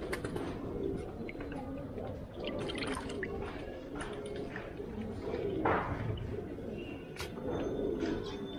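Pigeons kept in a loft coo softly and repeatedly amid dripping water and clatter, with occasional voices in the background.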